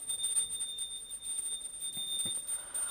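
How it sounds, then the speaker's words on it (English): During an arati ritual, a small ritual bell rings continuously with a bright, sustained high tone, held at a steady, moderate level and heard alone without speech. "Slowly wave the arati towards Swamiji along with the mantra and please ring the bell as you do so."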